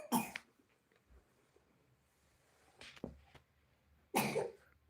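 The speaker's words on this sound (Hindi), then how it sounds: "बच्चे के खांसी चल रही है" A child coughs in short bursts, one at the start, a softer one near the middle and a stronger fit toward the end, close by in a quiet room.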